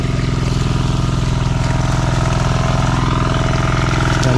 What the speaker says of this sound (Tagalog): habang nagpapahinga po kami nakaandar po yung makina